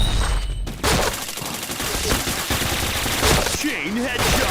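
Rapid automatic gunfire in a team-based shooter video game, dense bursts of shots over busy game effects, with an announcer-style voice calling out in-game events.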